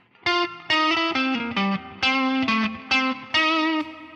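An electric guitar lick with its second measure moved ahead of the first, played as a loud, driven run of about seven sustained and bending notes, heard alone with no voices.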